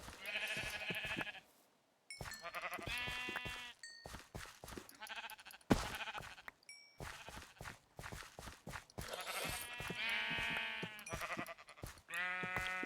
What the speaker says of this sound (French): On va tuer un petit quart de ces moutons, hein.